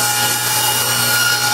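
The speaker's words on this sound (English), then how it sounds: "now it's time to put our initial cut through here" A table saw cuts into a wooden sled for a table saw, a steady close whine of the blade through wood that lasts the whole short moment with no pauses.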